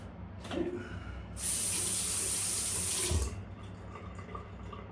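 Water runs from a bathroom tap in a steady hiss that swells in the middle stretch, then drops back, with no talking over it.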